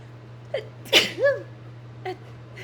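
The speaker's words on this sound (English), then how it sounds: "Oh, the black pepper's gonna make me sneeze." A single sharp sneeze set off by ground black pepper during cooking, preceded by a faint intake of breath and followed by a short exhale, close and clear over a steady low hum.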